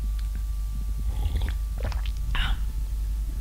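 Crunchy cornflakes are chewed close to the mic in several short, crisp crunches over a low steady background hum.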